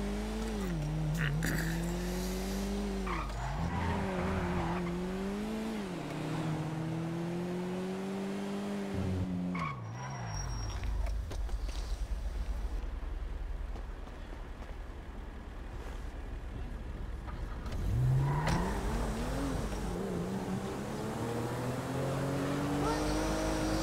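A car in the video game GTA 5 Online revs steadily with its engine pitch rising and dipping, then breaks into a long rough, noisy stretch before the engine climbs again, moderately loud throughout.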